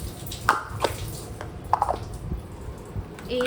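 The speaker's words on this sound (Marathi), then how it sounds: "आता माठातल्या पाणी पाण्याने धुवून घ्या" Rice being rinsed with water poured from a clay pot gives a few scattered drips and soft wet squishes, close and fairly quiet, with brief gaps between them.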